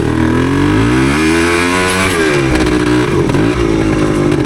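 1977 Yamaha DT250 woods bike with its engine revving hard and continuously, rising and falling in pitch as it is ridden off-road, close and loud throughout with no voices.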